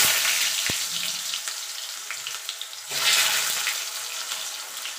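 Potatoes hitting hot oil tempered with black cumin, a loud, close, hissing sizzle that flares up sharply as they go in and then keeps up a steady crackle.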